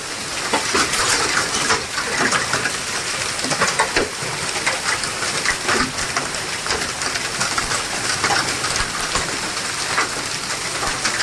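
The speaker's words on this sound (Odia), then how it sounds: "ଆଉ ବହୁତ ଜୋରରେ କୁଆପଥର ମାଡ଼ ହଉଛି" Dense, heavy pelting of hail in a violent nor'wester storm in Talcher, across a broad surface, loud and continuous with rapid irregular impacts and no voices.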